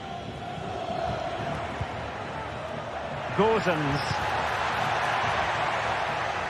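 A stadium crowd at a football match keeps up a steady, broad roar of noise throughout, with a commentator talking over it.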